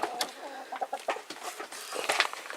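Chickens cluck and squawk close by in a busy, irregular flurry of short calls.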